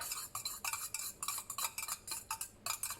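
Aloe vera water base for a homemade face cream being stirred in a container, a quick series of close scraping, clinking strokes in an irregular rhythm with no voices.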